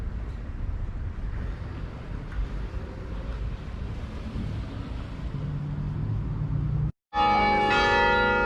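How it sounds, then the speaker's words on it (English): The 8:30 chime of the Cathedral Basilica of St. Francis in downtown Santa Fe rings out over steady outdoor wind and street rumble, then a bright, ringing bell tone cuts in loud near the end. "That was the 8:30 chime."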